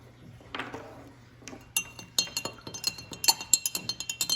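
A spoon stirs egg geode solution in a container, making quick, light glassy clinks that speed up into a rapid, close ticking rhythm over a low background hum.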